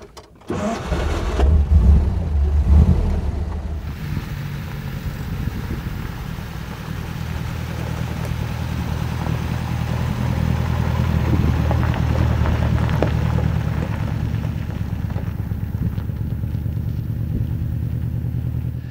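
A 1939 Horch V-Roadster's engine cranks, catches and settles into a steady, close idle that runs on for the rest of the stretch, with no speech over it.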